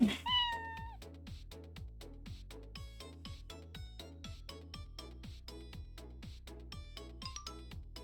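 A cat in the game Pups and Purrs Animal Hospital meows once loudly at the start, then fainter meows sit over a bouncy, rhythmic game music track with repeating bass notes.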